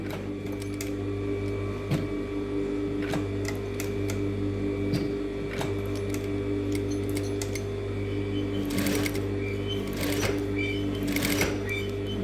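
A sewing machine stitches slowly and carefully along a garment flap, the steady mechanical whir punctuated by sharp ticks and short bursts of rapid needle clatter, close and continuous without speech.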